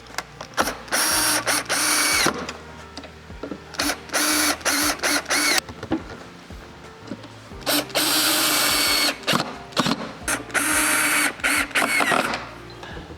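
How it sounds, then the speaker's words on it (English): Repeated bursts of a power drill whirring in short runs, driving screws into the wooden sides of a trash can cabinet, with pauses between, close and loud. "pre-drill the sides, and just add some screws into the sides to hold it in place"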